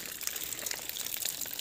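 Strong, steady gush of cold water flowing from a hose near a well, a dense continuous rush heard close and alone.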